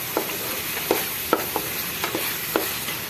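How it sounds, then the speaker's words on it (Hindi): Tomatoes for gobi chicken cook in a pan with a steady frying sizzle, while a utensil stirs with a handful of soft scraping taps, close and even, no voices. "अब अच्छी तरह से हम जो टमाटर हैं इनको पकाएंगे।"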